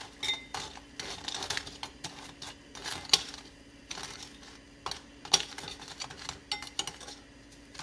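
Fried churros tossed in cinnamon sugar inside a bowl, making soft gritty rustling and scraping with scattered light clinks against the bowl, close and fairly quiet with no talking.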